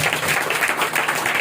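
Congregation at a Sunday church worship service clapping together, a short burst of dense rhythmic hand claps, moderately loud, filling the hall.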